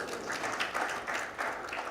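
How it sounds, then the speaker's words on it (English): Audience applause at an event announcement ceremony, a steady wash of many hands clapping at moderate distance, fairly faint and continuous with slight swells, without talk. "You can applaud if you're from Columbus."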